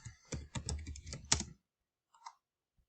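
A computer keyboard clatters under a quick burst of close keystrokes lasting about a second and a half. Silence follows, broken by a couple of isolated taps. No one talks.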